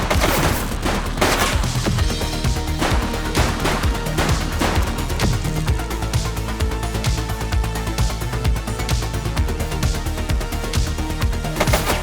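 Rapid bursts of gunfire in the video game The Precinct, dense volleys of loud shots and booms running continuously over a driving background score.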